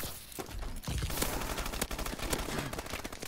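Sustained PDW submachine-gun fire in Call of Duty: Advanced Warfare Gun Game mode, dense rapid bursts running almost continuously with sharp individual cracks, fairly loud and steady throughout.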